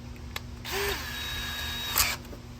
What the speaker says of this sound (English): go ahead and attach the bracket to the fence post